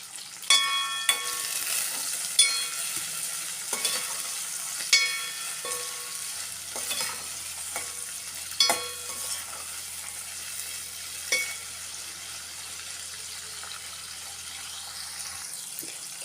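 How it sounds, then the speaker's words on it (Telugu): Capsicum pieces frying in a pan for a curry, with a steady sizzle and sharp clinks of a spoon stirring against the pan at irregular intervals; close and moderately loud, no talking. "క్యాప్సికమ్ కొంచెం వేగినాయండి."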